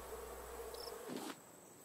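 Bees in the Raft survival video game buzz in a steady, quiet insect drone for most of the short stretch, rising briefly before cutting off near the end.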